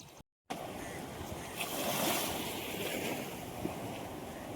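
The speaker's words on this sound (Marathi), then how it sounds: "फक्त मस्त लाट येते ना" Sea waves wash onto the shore at high tide in a steady, broad roar, with a slightly louder surge midway and gusts of wind over the microphone.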